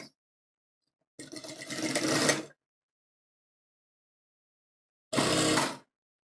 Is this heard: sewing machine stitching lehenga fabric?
yes